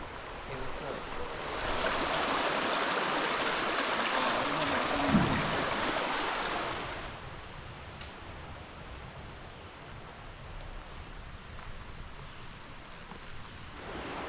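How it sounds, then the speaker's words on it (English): A giant water wheel turns in flowing water, heard as a steady broadband rush and splash that swells louder for several seconds, then settles into a softer continuous wash, with no clear talk. "So this giant water wheel is here, which is pretty awesome."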